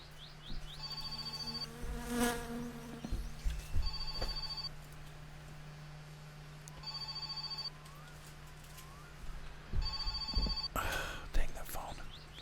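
A telephone rings in the video game My Summer Car: four evenly spaced, repeating electronic ring bursts over a steady low hum and faint background clatter.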